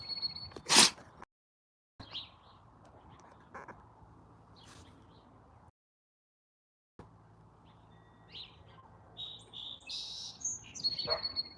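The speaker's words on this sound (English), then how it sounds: "Where's that bird, Tonka?" Bird calls ring out outdoors in a few short, sharp bursts, one loud chirp near the start and a cluster of tweets toward the end, separated by quiet stretches with faint background noise.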